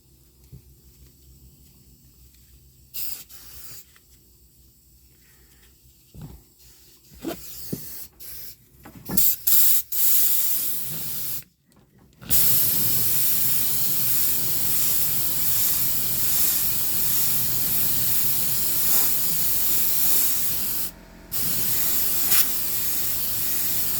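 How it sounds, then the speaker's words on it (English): Lysol aerosol sprayed into the airstream of a duct nozzle during a duct install, starting with scattered short bursts and clicks, then a loud continuous hiss of spray and rushing air that holds steady with one brief gap. "if I can get the Lysol in the airstream of my nozzle"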